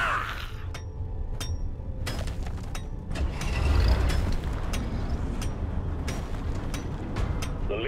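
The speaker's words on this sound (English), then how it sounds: "Return to the refinery and start up the pump sequence." Refinery pump jacks start up in the Deep Rock Galactic video game, giving a steady mechanical churn with repeated creaks, ratcheting clicks and sharp metallic ticks, and a deeper rumble swelling midway.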